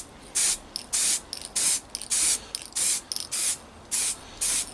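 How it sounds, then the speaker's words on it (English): Bursts of satin black spray paint from an aerosol can misting onto Tamiya Land Rover Defender 90 model body parts, about ten short hissing sprays in quick irregular succession, close and clear with no talking. "I'm just going to try and show you how I go about spraying these bits"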